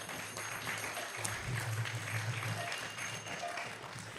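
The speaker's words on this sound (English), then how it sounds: "Give a big round of applause for being here today." A fairly quiet, diffuse round of applause comes from an audience at a Krishna Katha talk, a soft steady patter under a low hum, with no speech.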